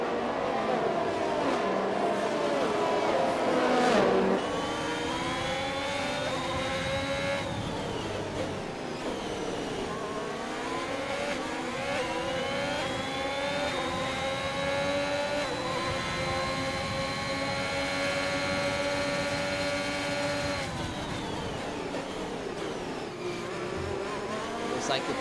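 Racing cars in a sim-racing league video game roar and accelerate, engine tones climbing steadily through sustained high revs, with a race commentator talking over the continuous engine noise.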